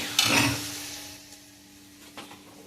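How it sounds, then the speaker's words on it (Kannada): Tomato and onion frying together in a pan for chilli chicken, with a brief burst of stirring and scraping near the start, then a soft, steady sizzle that continues alone. "ಟೊಮೆಟೊ ನೀರುಳ್ಳಿ ಸ್ವಲ್ಪ ಫ್ರೈ ಆಯಿತು ಒಟ್ಟಿಗೆ ಫ್ರೈ ಆಗಲಿ"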